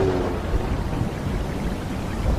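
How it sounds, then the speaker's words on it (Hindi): Steady rain pours down with a low rumble of thunder beneath it, a dense, even wash of sound with no voices. "बारिश शुरू हो गई।"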